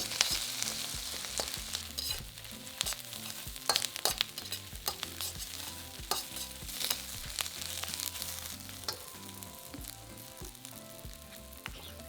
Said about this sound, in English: Once they're ground nice and fine, then add them to the wok and fry for a further minute.